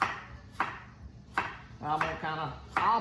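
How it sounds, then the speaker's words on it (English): Knife slicing carrots thin for a salad, a few crisp chopping strikes against a cutting board spaced irregularly, close and fairly quiet, with faint voiced sounds between cuts. "All I'm doing here is just slicing the carrots thin to go on the salad."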